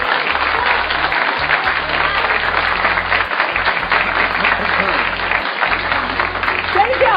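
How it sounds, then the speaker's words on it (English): An audience applauds steadily in a hall, dense clapping that stays loud and even throughout with crowd noise mixed in. "applause till the end."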